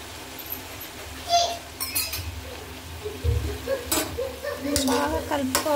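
A spoon stirs bottle gourd curry seasoned with chili and coriander powder in a pan, giving scattered metallic clinks and scrapes over a soft sizzle.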